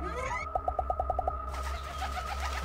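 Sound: bird cooing in the video game Sprout

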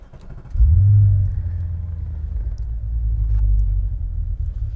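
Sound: Audi RS4 B7 engine warm start and idling

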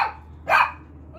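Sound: dogs barking

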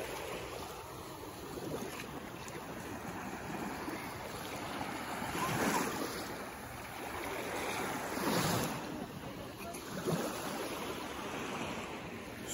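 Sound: sea waves in the sea at closed Maraş

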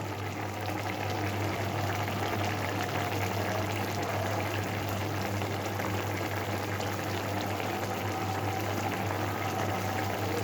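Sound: fish curry boiling in covered pan on gas flame

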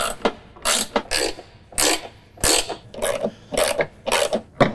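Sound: tightening bolts on John Deere mower deck

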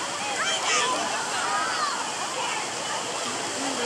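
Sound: big splash at a waterpark tube slide

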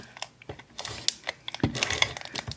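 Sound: Flink Fix adhesive glue roller being rolled and lifted off

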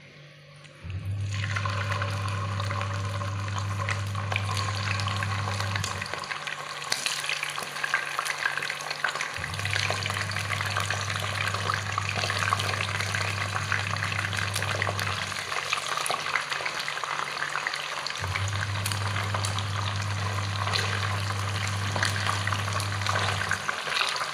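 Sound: frying scad fish in hot oil

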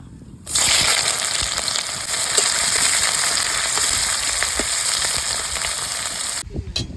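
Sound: onions and chillies frying in mustard oil

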